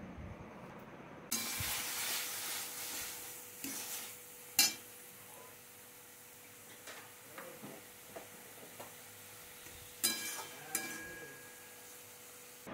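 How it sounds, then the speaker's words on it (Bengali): A ground spice paste mixed with water is sautéed in a pan for a fish roe curry, with a low hiss and sizzle broken by intermittent scraping and clanking of a spoon against the pan. "মশলাটা দিয়ে এখন সবটা ভালো করে আমি কষিয়ে নেব।"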